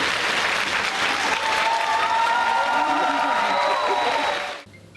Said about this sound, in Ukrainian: ці бурхливі оплески